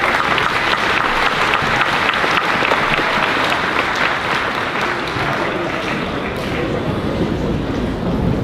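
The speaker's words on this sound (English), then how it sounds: "let's give Mr. Rhoda's class another round of applause" Audience applause at a 5th grade moving-up ceremony, dense sustained clapping from a large crowd filling the room, steady and loud before easing slightly toward the end.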